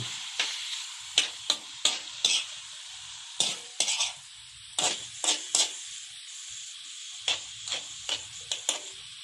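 Pork sautéing in a pan for a simple sotanghon noodle dish, a steady sizzle broken by repeated sharp bursts of stirring and spatula scrapes, close and fairly loud, with no talk.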